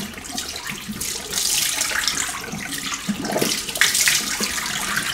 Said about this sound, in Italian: Allora, mi bagno un secondo il viso